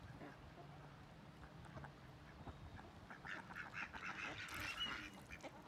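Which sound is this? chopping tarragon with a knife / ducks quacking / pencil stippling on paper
ducks quacking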